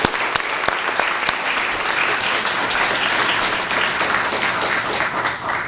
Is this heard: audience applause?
yes